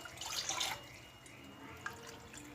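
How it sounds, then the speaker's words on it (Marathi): Water poured from a measuring cup onto sabudana (sago) for a potato sabudana murukku recipe: a short splashing gush in the first second, then quiet kitchen room noise. "ज्या कपनी आपण साबुदाणा घेतलाय त्याचा 2 कप आपल्याला पाणी घालायचं आहे"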